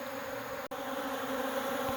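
Honeybees buzz around a bucket feeder of sugar water, a steady close drone of wings with a faint hum, broken by one brief dropout midway.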